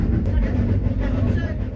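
Snowdon Mountain Railway locomotive climbing a steep, open section of mountain track into low cloud, a steady loud low rumble and chug with faint rail clatter throughout.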